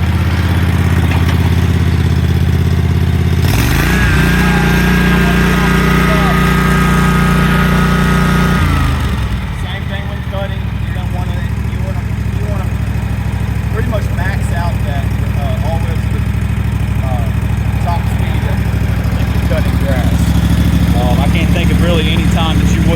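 A commercial walk-behind zero turn mower engine runs at half throttle with a steady, loud droning hum whose pitch shifts as the throttle changes, while someone talks over it.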